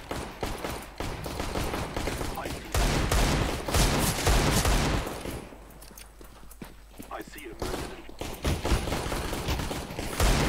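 Rapid gunfire bursts and shots in Counter-Strike: Global Offensive, dense and loud with a lull partway, heard alongside footsteps and game noise while players talk.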